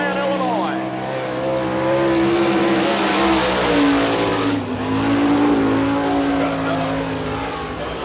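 Car number 88, a sprint car in an All Star Circuit of Champions race at Barberville, Florida, roars around the track on a qualifying lap, its loud engine note sweeping up and down in pitch as it passes.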